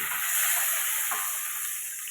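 Broth is poured into a hot pan of frying small-fish curry with eggplant, giving a loud, close, continuous hissing sizzle that fades slightly toward the end.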